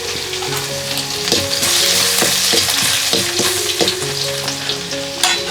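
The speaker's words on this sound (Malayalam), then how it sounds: "നമുക്ക് അതിലോട്ട് ഇഞ്ചി ഇടാം ആദ്യം." Ginger frying in hot oil with popped mustard seeds in the same pan, a steady loud sizzle with scraping stirs and crackling pops throughout, no voices.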